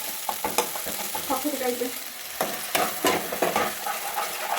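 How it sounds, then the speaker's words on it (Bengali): Onion and garlic fry in hot oil while a utensil stirs them, sending out irregular scraping strokes over a steady sizzle. A voice speaks a couple of words briefly. "একটু বাড়িয়ে দিলাম, দিয়ে নাড়াচাড়া করছি যাতে পেঁয়াজের রসুনের গন্ধটা বেরিয়ে যায়"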